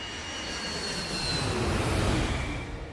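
Boeing 757 airliner cruising at 37,000 feet, a steady, full-bodied engine roar with a faint high whine that swells slightly midway through, with no voices.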